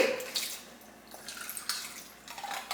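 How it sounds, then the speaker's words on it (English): Tap water from a kitchen sink pours into an emptied tomato paste can to rinse it out while cooking peanut butter soup, a close, uneven splashing trickle with small bursts and no talk. "put some water from the sink in the can of tomato paste to rinse it out"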